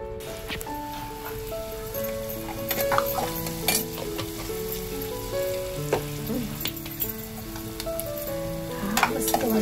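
Steady sizzle of oil heating for tempering a crab curry, with stirring and light clinks of a utensil, continuous and close, no talking.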